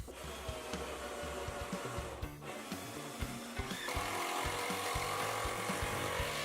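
A cranked impact driver drives screws into wooden joists while building a DIY shop storage mezzanine, giving a loud, continuous rapid hammering rattle close by, with no talking.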